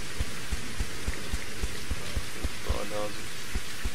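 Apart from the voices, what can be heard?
rain in the video game Reign Of Kings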